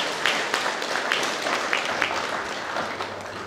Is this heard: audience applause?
yes